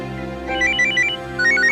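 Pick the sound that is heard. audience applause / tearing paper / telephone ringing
telephone ringing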